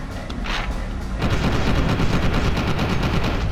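Rapid automatic gunfire in the shooter game F.E.A.R. 2, a dense, loud stream of shots that builds after a brief lull and keeps going to the end, with no voices over it.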